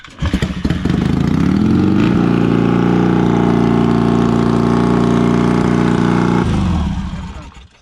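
Motorcycle engine starting at a Baxter Cycle open house, then running at a loud, steady idle close by for several seconds before shutting off.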